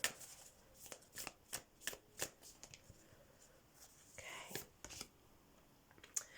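Moonology oracle cards being shuffled by hand: a run of quick, crisp riffling flicks, fairly close and soft, with brief pauses between bursts and no talking.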